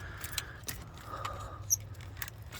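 A hose pick tool is worked around a coolant hose on a 2008-2012 Chevy Malibu during a thermostat replacement, giving faint, scattered metallic clinks and light scraping over a low steady hum, with no talk.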